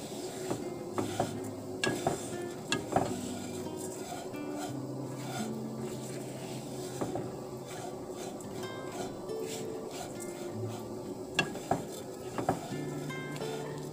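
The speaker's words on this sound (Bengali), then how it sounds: "এটা ভেজে নিতে হবে সিমাইগুলো" Vermicelli frying in a small amount of fat for milk payesh, stirred steadily in a pan, giving a soft scraping rasp with occasional utensil taps against the metal, close and continuous throughout.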